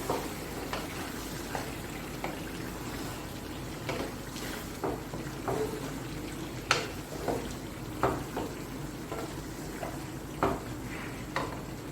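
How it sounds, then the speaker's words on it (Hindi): Beef kebabs fry in oil in a karahi, with a steady sizzle and scattered spoon scrapes and clinks as they are stirred. "और इसमें डालूंगी ये सारे कबाब, क्योंकि ये कबाब कढ़ाई है।"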